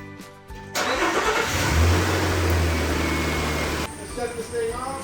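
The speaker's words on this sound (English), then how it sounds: "Let's fire this thing up." A car engine cranks and catches, then settles into a loud, steady run for several seconds before cutting off abruptly, close by.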